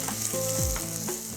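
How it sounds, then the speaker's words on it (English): Finely sliced onions hitting hot olive oil, a steady close sizzle and crackle of frying running the whole time without pause. "this is exactly what you want to hear, the sizzling onion into the oil."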